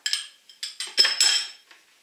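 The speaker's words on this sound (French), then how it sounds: "E vamos mexer de novo." A spoon scraping and clinking against a pot while stirring a cornstarch mixture for orange juice pudding, in several short bursts of bright metallic taps.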